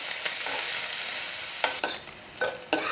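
Curry leaves, green chilies and onion fry in a pan with a steady hiss while a spoon stirs them, giving a few sharp scraping strokes near the end; no one speaks.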